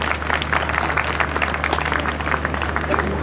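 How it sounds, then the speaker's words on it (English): A crowd applauds at a children's wellness campaign event, brisk continuous clapping over a low steady hum, filling the whole few seconds. "Another round of applause to them, please."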